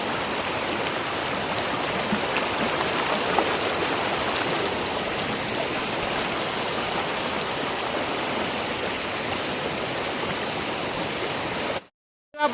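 The Ghagara waterfall in Similipal National Park, Odisha, gives a steady, dense roar of falling water that runs unbroken and close for about twelve seconds before cutting out at the very end.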